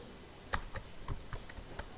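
A URL being typed on a computer keyboard: about eight quick, crisp key clicks in an uneven rhythm, close and fairly faint.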